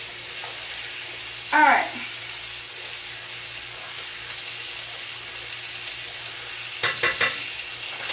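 Meat searing in a frying pan, a continuous close sizzle with a couple of louder scraping bursts from turning or stirring, and a brief spoken word in the middle.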